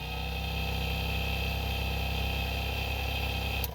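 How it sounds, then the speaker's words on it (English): Convertible top gear drive motor with gearbox from a 1975 Cadillac Eldorado, a low-RPM, high-torque unit, running on a bench test with a steady, even mechanical hum and drone that holds for several seconds before cutting off at the end. "And this is a low RPM, high torque motor."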